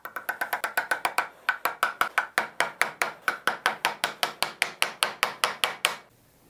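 Steel wedges are struck with a 2-pound sledgehammer in a rapid, steady series of about thirty sharp metallic blows, close and loud, ending in a brief ringing fade.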